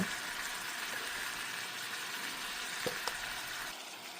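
Tomato pieces frying in a pan for a prawn and drumstick curry, a steady broad sizzle held at even loudness with a couple of faint utensil taps, close, without talking.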